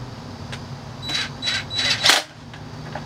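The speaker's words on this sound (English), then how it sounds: "It's an impact wrench, so it should not over torque it." A small impact tool drives a T10 screw on a Bird electric scooter in several brief close rattling bursts, the last one sharpest, over a low steady background hum.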